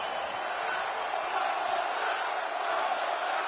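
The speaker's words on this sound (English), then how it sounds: "And the crowd is chanting behind Ian King right now." A wrestling crowd at an XCW Japan event roars in a dense, continuous wall of voices, loud and steady throughout with no clear single speaker.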